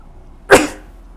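A single sharp, loud sneeze bursts out close by, a brief explosive burst that quickly fades into a quiet room.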